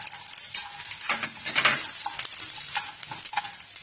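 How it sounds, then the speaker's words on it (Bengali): Turmeric goes into a frying pan of sizzling oil with green chilies and curry leaves and is stirred in. A spoon scrapes and clinks over a steady close sizzle, with no one speaking. "হলুদটা দিয়ে দিলাম"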